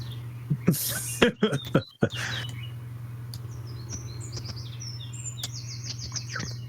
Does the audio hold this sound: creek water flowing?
no